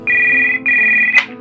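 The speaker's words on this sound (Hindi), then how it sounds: "फिर उस होटल का नंबर निकाल वहां फोन लगा दिया।" A telephone rings out on a call placed to a hotel: two long, steady electronic tones back to back, loud and close, cut off by a short rustle, with no talk.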